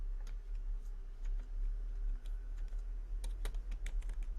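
Computer keyboard keys clatter in quick, irregular taps as a chat command is typed for a Minecraft mod, light and close, with a low steady hum underneath.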